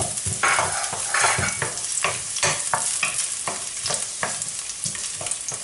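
Garlic fries in oil in a pan, a loud close crackling sizzle broken by repeated rhythmic stirring scrapes throughout.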